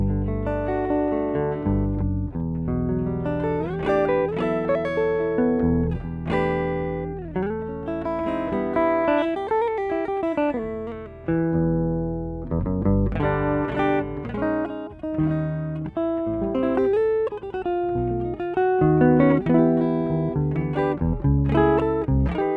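An electric guitar through a Boss OC-3 octave pedal and a Fishman acoustic amp plays a fluid melodic passage with a thick doubled low octave under each note, dry and close, with no talking.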